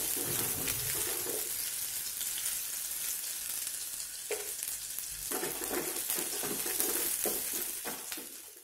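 Small shallots and dry red chillies fry in a pan for garlic chutney, a loud continuous sizzle broken by several bursts of scraping stirring, with no voices.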